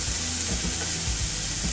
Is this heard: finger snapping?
no